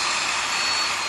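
A Japanese 100V electric hammer drill with a 13 mm chuck runs at its low speed of about 1,000 rpm, a loud, steady, unbroken whirring whine held close throughout.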